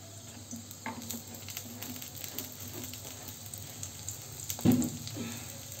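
An aloo paratha fries in oil on a pan, a steady soft sizzle with light crackles and one brief louder clink of a utensil near the end, no voices.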